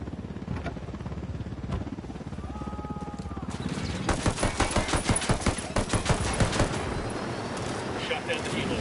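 Rapid bursts of automatic gunfire shooting down a helicopter in the video game Ghost Recon Wildlands, loud repeated cracks clustered over several seconds following a quieter stretch, with voices in the background.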